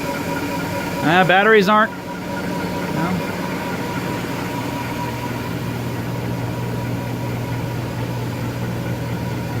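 A Viper Jet model turbine engine spinning steadily, a constant whine and hum that continues after a short burst of speech at the start.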